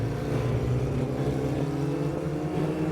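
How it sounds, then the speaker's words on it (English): A Formula Ford race car at Summit Point Motorsports Park pulls hard under throttle, its engine a loud, steady, buzzing drone that fills the whole stretch with no voices. "now we see how things go when we get on the gas"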